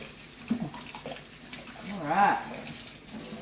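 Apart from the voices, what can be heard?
kitchen tap water running to rinse hands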